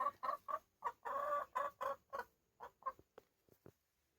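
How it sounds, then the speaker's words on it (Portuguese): An Índio Gigante pullet clucks in a series of short, close calls with one longer drawn-out phrase, the notes growing quieter and more clipped toward the end. "essa é uma franga índio gigante"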